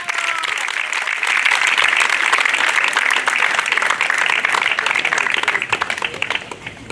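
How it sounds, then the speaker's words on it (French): A closing-ceremony audience at the Coupe Leblanc applauds the players, producing steady, dense clapping that holds strong throughout and thins slightly at the very end. "Une bonne main d'applaudissements pour nos joueurs."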